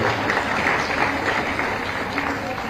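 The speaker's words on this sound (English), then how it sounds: "I think we should give a big round of applause to the faculty as well" Audience applause in a women's college hall during a youth parliament event, a dense continuous wash of clapping from a large crowd, loud and steady throughout the short stretch.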